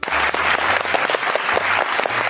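Sustained clapping from a studio audience on a comedy classroom show, loud and continuous, with a low hum or musical tone running underneath.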